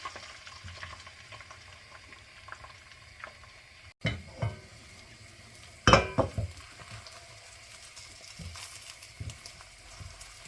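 Three beaten eggs poured into a hot frying pan for vegetable fried rice: a faint sizzle breaks into a sharper hiss when the eggs hit the pan, followed by a few clinks of utensils against the pan and a quiet, steady frying sound.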